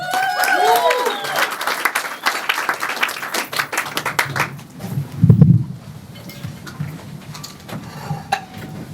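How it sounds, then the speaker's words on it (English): Comedy club audience at the DC Improv applauding a comedian, brisk clapping with scattered whoops that dies away midway, followed by quieter room noise and a brief low voice. "A warm round of applause to Terry Biddle"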